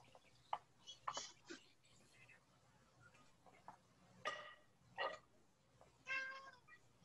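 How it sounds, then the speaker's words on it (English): A house cat meows several times in short, separate calls spread across the clip, fairly close but quiet against a low background hum, with faint speech nearby. "That was my cat"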